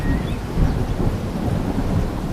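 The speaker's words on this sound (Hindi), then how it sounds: "तभी तेज बारिश शुरू हो गई।" Heavy rain pours steadily in a cartoon storm, with deep rumbling thunder rolling underneath throughout, loud and close with no voices.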